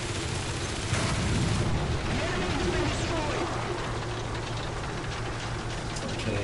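A tank gun firing armor-piercing rounds in a PS4 video game: booming shots over a constant rumbling battle din, with a louder burst near the start and steady gunfire texture throughout.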